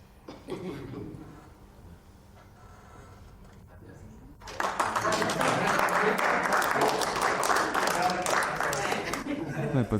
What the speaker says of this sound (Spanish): Todos aplaudan.